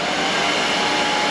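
A hairdryer blowing warm air over a 3D-printed Cubone skull gives a steady, even whooshing roar, unbroken and moderately loud, with no voices.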